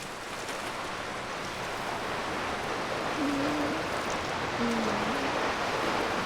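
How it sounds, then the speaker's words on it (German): Waterfall in the video game Lost Ember, a steady broadband rushing of falling water that is even and continuous, with faint brief voice tones near the middle. "Aber da ist jetzt so ein Wasserfall"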